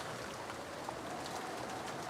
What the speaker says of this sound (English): I began to remember the coldness of the raindrops that kept pounding down.